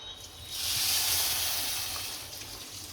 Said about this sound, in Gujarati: થોડુંક પાણી નાખશું